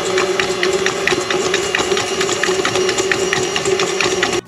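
Stand mixer creaming butter and sugar at medium speed, a continuous whirring motor hum with a fast ticking, rattling beat from the beater, close and steady until it cuts off at the end.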